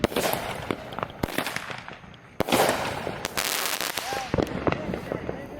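Fireworks and firecrackers, about a thousand dollars' worth, popping in sharp repeated bursts with crackling tails, loud and close, while people talk and shout nearby.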